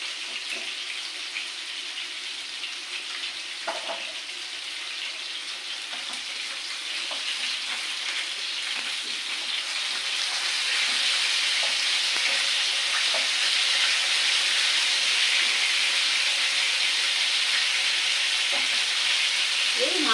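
Fish sizzling in hot oil in a pan while cooking with yardlong beans, a steady loud hiss that grows fuller partway through, with a few faint clinks and scrapes and no talking.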